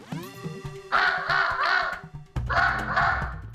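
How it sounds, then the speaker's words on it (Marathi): A crow caws harshly nearby in two quick bursts of repeated calls, with a brief pause between them. "कावळा काय करतोय स्वयंपाकघरात?"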